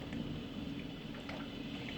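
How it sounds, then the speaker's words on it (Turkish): Heavy rain pouring in Istanbul during a storm, a dense continuous hiss of rain on surfaces with a low rumbling undertone, steady and fairly faint. "İstanbul'da bayağı bir yağmur var."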